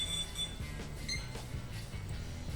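An assembled PC built on a Xeon X99 kit gives short, high-pitched beeps at power-on, a couple of brief tones rising over a steady low hum and fan-like noise.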